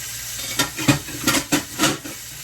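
Chicken sears in a hot pan, a steady sizzle broken by several quick scraping, stirring bursts close by, over a couple of seconds with no talking.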